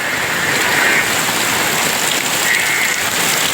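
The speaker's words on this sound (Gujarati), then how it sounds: "વરસાદ અટાણે બહુ જ ને ચાલુ છે" Dense, heavy rain pours down steadily, a loud unbroken hiss of drops hitting surfaces with no voices.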